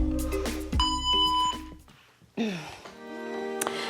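A workout interval timer for an at-home low-impact HIIT session sounds a string of steady electronic beeps and chimes, with a brief gap before another tone sequence starts, loud and close with no talking over it.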